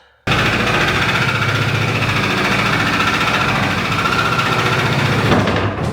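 Sawzall reciprocating saw cutting through headless nails, a steady, loud, buzzing mechanical drone that runs continuously and alone for several seconds before cutting off.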